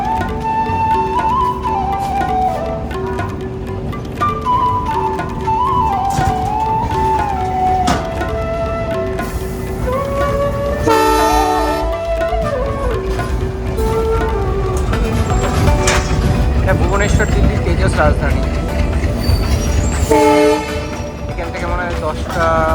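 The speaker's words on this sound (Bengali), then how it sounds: "এখন দশটা দুয়ে আমাদের ট্রেন ছেড়ে যাচ্ছে ভুবনেশ্বর জংশন থেকে" The Duronto Express pulls out of Bhubaneswar Junction with loud, close rumbling and clanking, and a horn sounds in tonal bursts, one strong blast standing out midway. Rail noise runs continuously underneath throughout.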